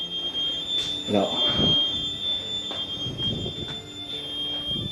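A steady, high electronic alarm tone rings continuously inside an abandoned 2004 Olympic stadium, echoing and persistent beneath scattered footsteps, rustling and a brief spoken word.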